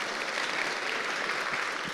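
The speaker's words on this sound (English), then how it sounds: "You can clap, yeah." Steady applause from an audience gathered in a church fills the whole stretch, dense and even without a break.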